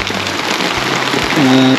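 Steady hiss of monsoon-season rain falling on a surface in Bicol, Philippines, with a short voice sound near the end.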